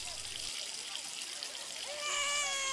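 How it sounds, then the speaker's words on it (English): A small child cries and whimpers under a running shower at a swimming pool, the wail rising over steady splashing, trickling water. "Why are you crying?"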